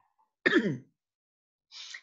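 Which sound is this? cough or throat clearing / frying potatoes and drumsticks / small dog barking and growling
cough or throat clearing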